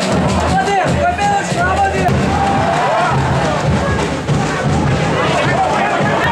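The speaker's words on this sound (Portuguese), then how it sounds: "A torcida continua fazendo festa." Football supporters celebrating in the stands at an Esportiva Patrocinense versus Araxá match: a dense, continuous crowd roar with chanting and babble filling the stadium, heard at a distance.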